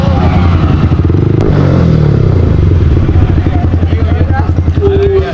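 A motorcycle engine revs hard and steadily up close during a wheelie on a road ride near Baramkela, Chhattisgarh, its pulsing throb loud throughout with voices in the background.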